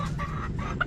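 A chicken clucks softly and repeatedly, close by, with a brief sharper note near the end.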